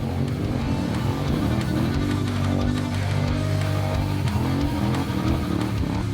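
A Can-Am Outlander 1000 High Lifter ATV with an MBRP exhaust gives a loud, steady roar with throttle blips and revving, continuous throughout with no talking.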